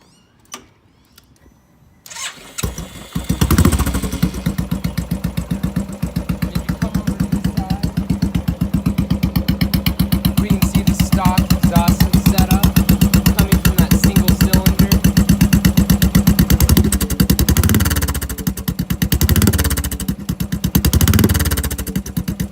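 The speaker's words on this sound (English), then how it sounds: "So as you can see, these bikes make quite different exhaust notes." A Yamaha R6 sportbike and a vintage motorcycle idle in neutral, one after another, with a loud, steady, rapid exhaust pulse that starts abruptly after a quiet opening and holds close and even throughout.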